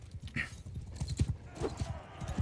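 Hooves clip-clop rapidly and evenly as a horse gallops in the video game Bannerlord, with a brief whinny near the start and steady thudding close by.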